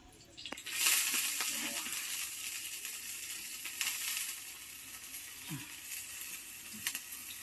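Bee pupae frying on a lightly oiled iron griddle give a steady, close sizzle, with faint crackles and utensil clinks scattered through it.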